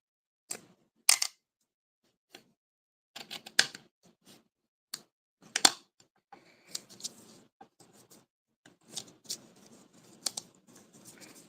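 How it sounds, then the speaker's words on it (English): Scissors snip through ribbon during a paper pumpkin craft, a series of short, crisp cuts spaced irregularly with brief pauses between them, close and fairly quiet, with no voices. "Cut, ribbon, scissors."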